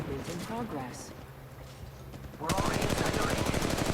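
Automatic gunfire in the mobile shooter game Apex Legends Mobile bursts in loudly halfway through as a rapid, sustained stream of shots, following a stretch of someone talking over quieter game sounds.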